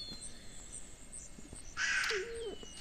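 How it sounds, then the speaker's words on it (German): A raven in the video game The Wolf gives a single harsh, rasping caw over quiet outdoor ambience, close and fairly loud, with a short lower call trailing after it. "Oh Gott, ein Rabe."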